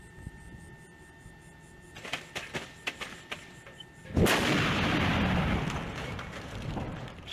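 A high-reactivity fuel such as ethylene or hydrogen explodes in a single loud broadband blast that follows a few sharp cracks. The blast holds steady as a roaring rumble and then slowly fades.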